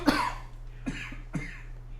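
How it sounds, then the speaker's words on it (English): A man coughs three times in quick succession, close and fairly loud, each a short harsh burst, over a low steady electrical hum. "I don't know why I'm coughing"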